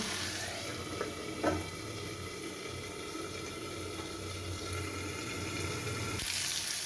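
Spice paste (masala) sizzling in oil in a pan for a fish curry with potatoes, a steady soft frying hiss with occasional light clinks, no talking.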